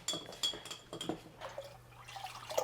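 Citric acid being poured into milk for cheese making, heard as a brief, faint trickle with scattered small drips in a quiet kitchen.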